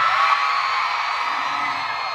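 A large concert crowd at a K-pop band's US tour show in Indianapolis screams and cheers in a dense, sustained, loud roar that fills the whole stretch without a break.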